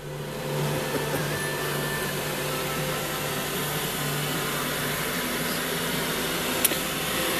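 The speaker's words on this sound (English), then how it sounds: "we are cutting the floor pans out of a 79 Volkswagen Beetle convertible with a plasma cutter" A plasma cutter slices through the floor pans of a 1979 Volkswagen Super Beetle convertible, giving a loud, steady, unbroken hiss with a low hum beneath it for the whole stretch.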